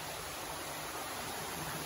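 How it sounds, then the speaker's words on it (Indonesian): A waterfall at Goa Batee Meucanang rushes in a steady, dense broadband roar that continues without a break. "ini kata teman aku, ini air terjun pertama teman-teman"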